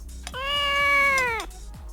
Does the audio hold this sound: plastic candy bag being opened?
no